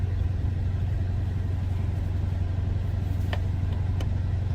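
A 2013 Dodge Challenger SRT8 engine idles steadily after a cold start, a loud, continuous low rumble close by with no pauses, and a couple of faint clicks near the end.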